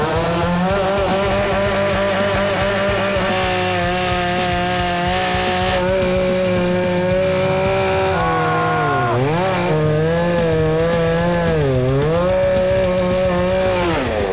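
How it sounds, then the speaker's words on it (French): A chainsaw runs loud and steady with a strong harmonic engine drone, then bogs down and revs back up twice as it bites into wood. "puis il y a la tronçonneuse"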